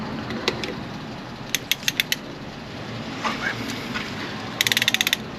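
Thermostat housing bolts are tightened on a Toyota 80 series, heard as short, quick runs of ratchet clicks over a steady background hiss, with a brief clunk between them.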